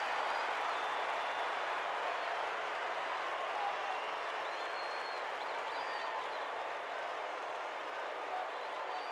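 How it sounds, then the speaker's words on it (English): A stadium crowd at a Madden NFL 11 football game between the Atlanta Falcons and New Orleans Saints keeps up a steady, distant roar of cheering and applause, with talk faintly underneath. "I love listening to the crowd when you see a catch like that."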